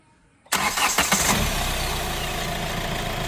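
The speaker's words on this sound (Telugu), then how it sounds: "ఇంజిన్ అయితే స్టార్ట్ చేస్తున్నాను." A Hyundai Creta SX(O) diesel engine cranks and catches after a moment of quiet, roaring up loudly close by before settling into a steady idle.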